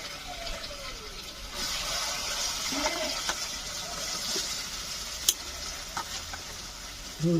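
A paste of coconut, coriander and garlic hits hot oil in a pan over a wood-fired chulha, giving a soft steady sizzle with occasional clinks and stirring scrapes, fairly quiet and close.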